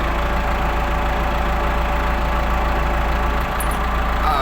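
A Case 695 tractor loader with a freshly replaced hydraulic pump idles close by, a loud, steady low diesel rumble that stays even throughout with no talking.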